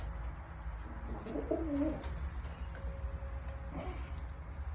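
Pigeons coo softly nearby, a low burbling call or two against a steady background rumble.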